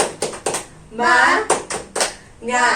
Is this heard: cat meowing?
no